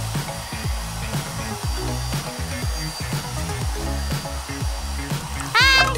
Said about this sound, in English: It's time to melt the figurine with the hairdryer.